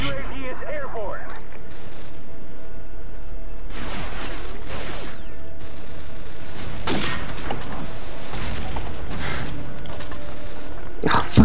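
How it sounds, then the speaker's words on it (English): Call of Duty 4 flashbang grenades and gunfire burst out in scattered sharp bangs and crackling blasts across a noisy match, several loud pops clustered in the middle and end, with players chatting over the action. "Oh, fucking flashbangs."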